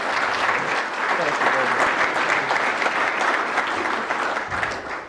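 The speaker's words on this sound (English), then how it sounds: "Would you please welcome him with your warm applause" Warm, sustained applause from an event audience welcoming a vice admiral to the stage, a thick, even wash of many hands clapping close and loud throughout, easing slightly at the end.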